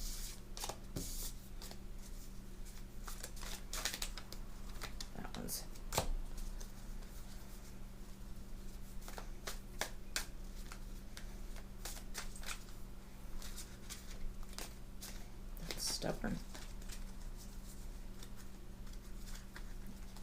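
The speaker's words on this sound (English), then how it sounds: "still my shuffling skills won't ever get me work in Vegas" Tarot cards being shuffled by hand in repeated bursts of crisp riffling and tapping, with a brief spoken remark partway through.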